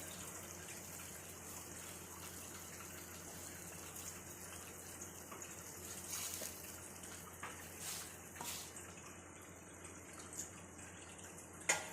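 Dal bati dough balls drop into a pot of boiling water in a home kitchen, giving a steady gushing, bubbling wash with a few soft splashes and a sharper plop near the end.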